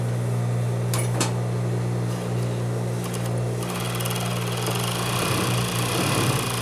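Overlock sewing machine stitching the seam joining a sleeve on a French-cut dress, a steady high whir close by with a few short clicks, running alone without talk.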